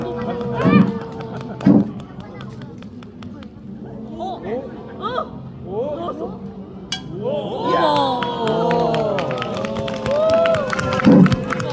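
A festival crowd watching a street magic show claps in several short bursts and then a longer round of applause, mixed with chatter, children's voices and a performer talking over a microphone.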